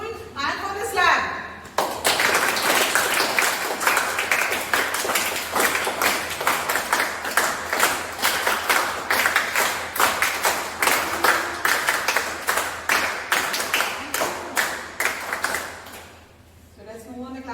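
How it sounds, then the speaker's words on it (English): Group of school children clapping in a robotics lab, a dense run of quick claps lasting about fifteen seconds, steady and close, with brief talk before and after. "Clap for your school and for this lab."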